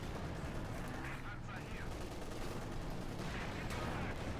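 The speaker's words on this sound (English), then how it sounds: "Direct hit here from the Sherman on the Panzer IV, taking almost down to half health there." Tank cannon and gunfire in Company of Heroes 2 as a Sherman fires on a Panzer IV, dense battle noise with sharp blasts and crackling shots, continuous and loud.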